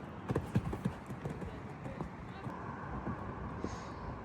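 A horse comes down at a trot and then canters toward a jump obstacle during a riding session. Hoofbeats clip-clop in a quick rhythm over outdoor ambience, loudest at the start and then fading.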